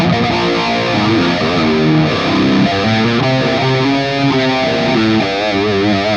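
A distorted electric guitar played through an Ampero 2 Stomp multi-effects unit rings out in a continuous run of loud, saturated notes and chords, with no talking.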